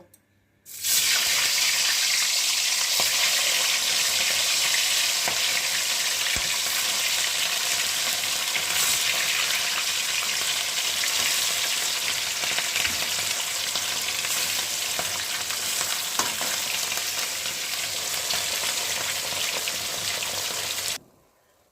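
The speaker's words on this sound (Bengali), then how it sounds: "এবার আমি মাছগুলো এক এক করে ভেজে নেব" Catla fish sizzling loudly in hot oil, a continuous close crackle that holds for about twenty seconds before cutting off abruptly.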